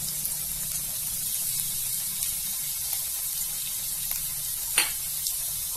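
Garlic and green chilies sautéing in hot oil in a pan for an aloo matar kachori filling, a constant faint hissing sizzle with a couple of tiny clicks; no talking.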